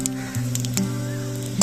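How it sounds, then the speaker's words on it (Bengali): Bengali five-spice seeds and three dried red chillies sizzle in hot oil, a soft steady crackle under a low hum, with a couple of brief sharper pops. "আমি এখন তেলের মধ্যে দিয়ে দিলাম 5 ফোড়ন, দিয়ে দিলাম 3টি শুকনো লঙ্কা।"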